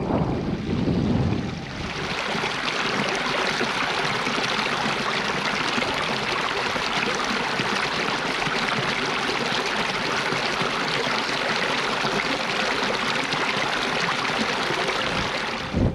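A Dartmoor stream rushes steadily and loudly close by, a constant broadband wash of flowing water with no letup.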